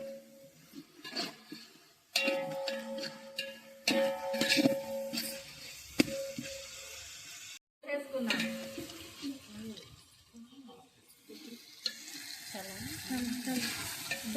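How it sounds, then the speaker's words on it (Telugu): Ginger garlic paste frying in a pot over a wood fire for prawn biryani, soft sizzling with clinking spoon stirs and scraping against the pan, starting and stopping in bursts. "అల్లం వెల్లుల్లి పేస్ట్ వేసుకుందాం. ఇప్పుడు బాగా మగ్గనివ్వాలి, బాగా ఎగాలి."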